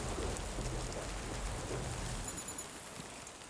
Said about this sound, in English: It's raining pretty heavily and it's so dark.